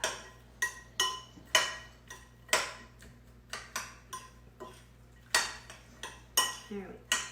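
A spoon clinks and scrapes against a bowl while pasta salad dressed with mustard is stirred, a loose rhythm of sharp close knocks spaced about half a second apart with no talking.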